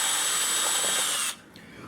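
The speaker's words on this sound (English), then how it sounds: "I need to drill a hole for it to come up and sit inside of there" A power drill bores a hole through a guitar body for an under-saddle pickup, running loud and steady for about a second and a half before cutting off abruptly.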